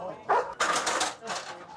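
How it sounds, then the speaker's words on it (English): A dog barks in a few short, sharp bursts close by, mixed with voices talking in an outdoor scene. "Randy, we got another dog back here"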